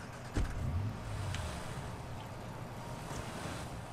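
Car engine and road rumble in the Watch Dogs video game, a steady low drone with a soft thump near the start, moderately loud and without speech.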